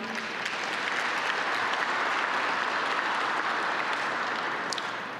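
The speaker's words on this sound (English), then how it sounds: "Let's give him another round of applause." An indoor crowd claps in a sustained, even burst at an annual workforce training center awards celebration, heard from a middle distance without talk.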